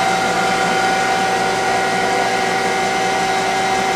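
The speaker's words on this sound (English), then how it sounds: "We have it cycling through the program that was on the machine." A Citizen F12 CNC Swiss lathe with a Fanuc 3T control cycles through its program, giving a steady loud whine and hum with a constant tonal drone, unbroken throughout and close by.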